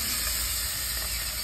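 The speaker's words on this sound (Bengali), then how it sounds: "তেল গরম হয়ে গেছে," Parshe fish frying in hot oil in a village kitchen makes a steady, dense sizzling hiss that holds close and even throughout, with no voices.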